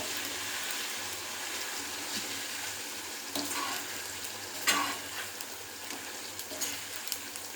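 Ginger garlic paste fries and is stirred in hot oil, giving a steady close sizzle with a few scraping strokes of the spoon; no talking.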